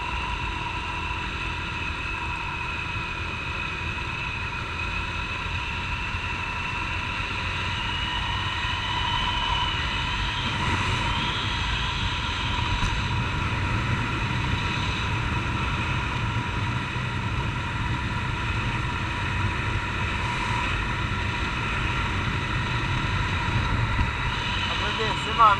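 A Honda Titan 150 motorcycle riding along a road on a cold day, its steady engine drone mixed with heavy wind rush buffeting the helmet-mounted camera, continuous and close throughout.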